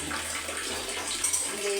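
A tap runs slowly, a soft continuous trickle of water close by.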